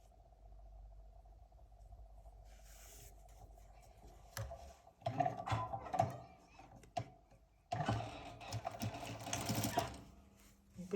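Sewing machine stitching the seam of a fabric cosmetic bag along the presser foot, a near, quiet whir at first, then louder bursts of rapid rattling stitches separated by brief pauses.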